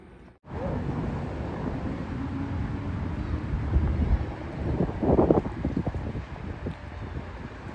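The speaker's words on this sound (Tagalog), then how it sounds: "Ang lakas ng hangin dito sa loob ng subway." Strong wind rushes inside a subway, a continuous buffeting roar against the microphone that starts abruptly after a brief quiet moment and swells in gusts, with no clear speech.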